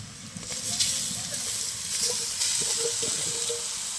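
Steady sizzle and hiss of grated radish frying with onion in a pan, continuous close crackling with occasional soft stirring scrapes throughout.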